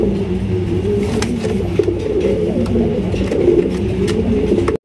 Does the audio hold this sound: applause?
no